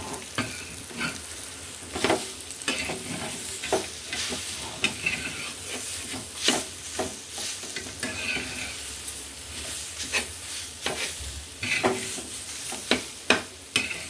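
Besan bhurji, a gram-flour scramble, sizzles steadily in a pan while a utensil stirs and scrapes through it, giving irregular close clacks and scrapes over a continuous frying hiss.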